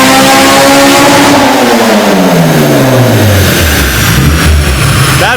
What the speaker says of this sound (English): Sounds so good when VTEC kicks in.